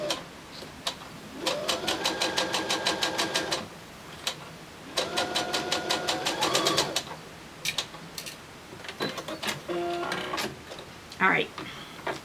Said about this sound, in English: So then you just sew across on that line.